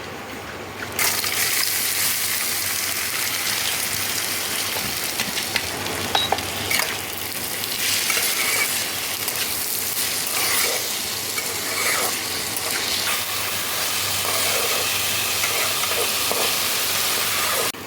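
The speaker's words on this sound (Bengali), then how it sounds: "ডালটা তো ভাজা হয়ে গেছে" Washed lentils with whole dried red chillies fry in hot oil for khichuri, a steady loud sizzle and hiss running unbroken throughout with occasional stirring scrapes.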